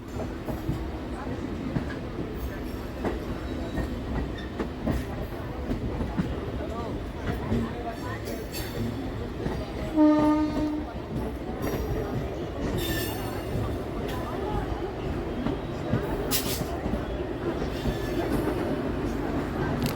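Local commuter train running from Naihati to Bandel, a steady loud rumble of wheels and carriages with occasional metallic squeals and clatter, and a voice talks over it.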